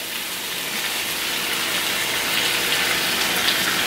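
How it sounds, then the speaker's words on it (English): Water poured into a pan of homemade sweet chili sauce while cooking, a steady loud gushing splash lasting several seconds without a break. "I'm gonna put this and I'm gonna put some water in"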